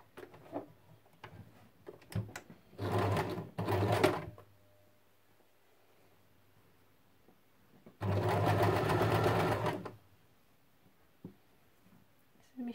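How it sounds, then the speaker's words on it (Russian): Sewing machine stitching along the long edge of a quilt, running in two bursts of steady whirring: a short run broken by a brief pause, then a longer run after a quiet gap, with light handling sounds between. "Начинаем строчить с длинного края."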